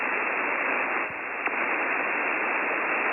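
Amateur radio receiver noise on the 40-metre band at night gives a steady, even hiss of static with a brief dip and a small click partway through.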